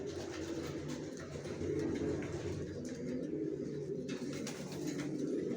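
Racer pigeons coo softly and steadily nearby, their low rolling calls overlapping in a continuous murmur with a few brief faint chirps.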